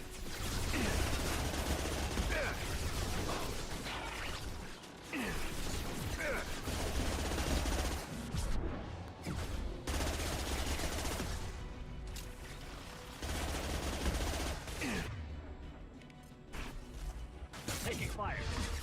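Sustained gunfire from the Mass Effect 2 video game, a dense, low-level rattle of shots and bursts that runs continuously with brief dips.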